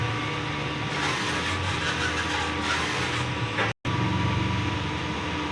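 A sublimation printer runs its head-clean cycle, giving a steady mechanical whirr and hum with pump-like rhythmic pulses. There is one brief dropout to silence, and no talk.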